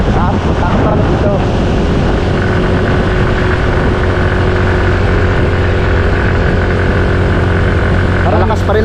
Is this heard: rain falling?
no